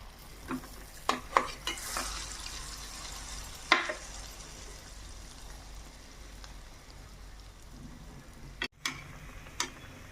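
Buri snack batter frying in a little oil on a hot plate gives a soft, low sizzle broken by scattered clicks and taps of a utensil, with a sharp clatter near the end.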